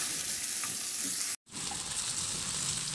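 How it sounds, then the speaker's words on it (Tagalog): Garlic, onion and pork ribs sautéing in a pan, giving a steady bright sizzle with faint stirring that breaks off for a moment and then resumes, close and without talk. "Igisa ko na rin yung bawang at isunod ko na rin yung sibuyas. Ihalo lang hanggang sa maglabas ng aroma, isabay ko na rin yung pork ribs."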